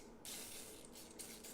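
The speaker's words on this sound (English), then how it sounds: "So you're going to use a little bit of nonstick spray." Nonstick cooking spray hissing from a can onto food before baking, one steady close spray about a second and a half long with a brief break near the end.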